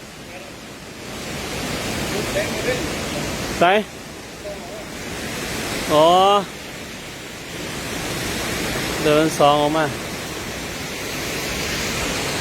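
A waterfall keeps up a continuous, close broadband roar of rushing water, with a few short bursts of people talking over it.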